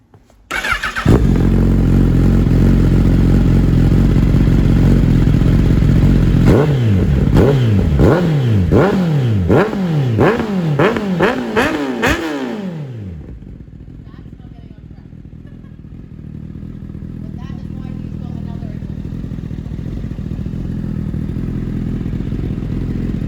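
A Honda CBR1000RR track bike with modified exhausts starts warm and idles loudly. A rapid series of sharp throttle blips follows, then it settles back to a steady rumbling idle, with people talking nearby.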